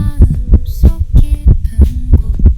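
A loud, close heartbeat sound effect thumps in a steady lub-dub rhythm, about two beats per second, dominating the clip with no voices.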